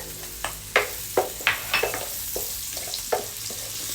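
Garlic and onion sautéing in a pan for creamy carbonara, a low frying hiss broken by several sharp spatula scrapes and taps at an uneven rhythm, close and fairly loud.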